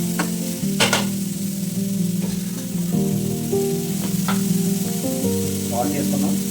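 Onions and tomatoes frying in a pan as salt is stirred in, a close, steady sizzle with occasional sharp clinks and scrapes of a spoon against the pan, no voices.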